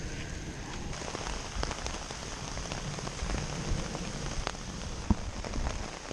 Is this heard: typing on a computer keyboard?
no